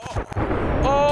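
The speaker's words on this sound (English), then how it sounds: "Oh, what was that explosion?" Explosion in Minecraft: a couple of short sharp pops followed by a loud, sustained booming roar that trails into a lingering rumble with ringing tones.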